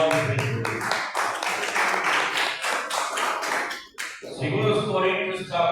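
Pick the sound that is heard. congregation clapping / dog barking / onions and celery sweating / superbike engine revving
congregation clapping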